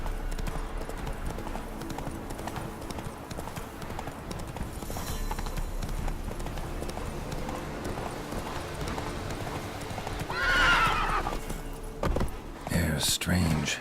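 Roach the horse gallops in The Witcher 3, a steady, close run of hoofbeats with gear jingling over ambient game sound and a brief swell of louder noise toward the end.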